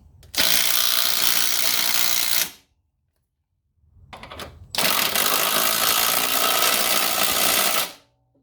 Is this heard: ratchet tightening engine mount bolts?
yes